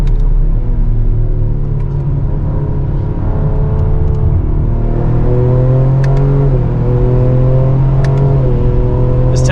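A 2025 Ford Explorer ST on the Road America track, its engine droning loud and close from inside the cabin, pitch climbing through the gears with brief dips at each shift.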